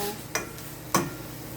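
Vegetables for denengdeng being stirred in a cooking pot, with two brief clinking scrapes of a utensil against the pot over a low background hum, no talking.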